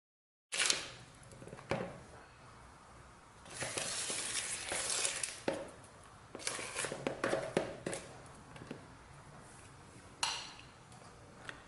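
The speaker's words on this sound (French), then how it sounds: "Je vais battre jusqu'à ce que le mélange soit bien lisse." Sugar and egg yolks being beaten smooth in a bowl for a frangipane galette des rois, with irregular scraping, whisking bursts and clatters, close and fairly quiet, with no talking.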